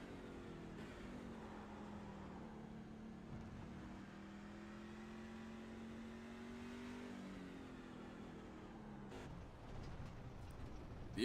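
A racing truck engine drones steadily at high revs at Homestead-Miami Speedway, its pitch shifting slightly as it runs along, heard from a distance with a faint rise at the end.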